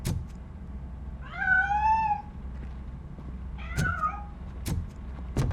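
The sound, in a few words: cat meowing in video game Robocop Rogue City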